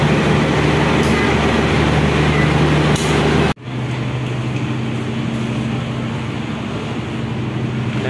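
Interior of a Motis train carrying motorcycles near Yogyakarta, a steady loud rolling rumble with low hum, then an abrupt cut to a quieter, droning cabin tone with a persistent low whine.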